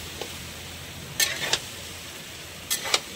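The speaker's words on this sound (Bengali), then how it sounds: "শুধু এটাকে কষে নেব।" A spatula stirs vegetables and spices, including fried radish, pointed gourd, soybean, yardlong beans and pumpkin, in a pan over a low steady sizzle, with a few short, close scraping strokes in pairs.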